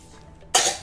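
A pet dog coughs once, a sudden loud harsh burst after a quiet stretch, trailing off briefly.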